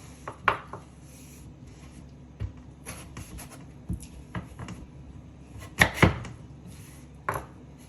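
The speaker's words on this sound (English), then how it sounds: "Now we're just gonna continue to cut it down the middle to get our 1/2 inch pieces" A knife chops a sweet potato lengthwise into half-inch pieces on a cutting board. Crisp, close thuds land at an irregular pace, with quieter scrapes and taps between them.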